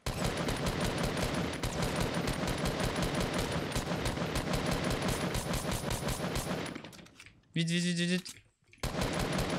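Fortnite gunfire plays as rapid, sustained bursts of close, loud automatic shots. A short pause follows, then a brief, different tonal burst before the shooting picks up again, and a player briefly speaks during the firing.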